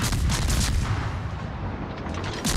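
Naval guns firing in the warship battle game World of Warships, a steady run of heavy booming shots and rumbling impacts over a dense loud battle backdrop.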